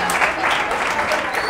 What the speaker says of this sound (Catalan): Val, aplaudiment, aplaudiment, aplaudiment.